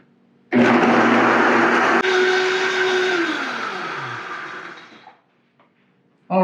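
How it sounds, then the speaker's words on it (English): A blender on its smoothie setting blends anchovy battuto, kicking on abruptly with a loud steady whir that slowly winds down and cuts off, followed by a brief clatter. "Now we're going to blend this until smooth, and it might get a little loud in here."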